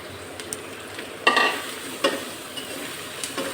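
Tengra fish dropped into hot frying oil for a chorchori, with a few sharp spatula scrapes and stirring bursts over a soft, steady sizzle, fairly close and without talk.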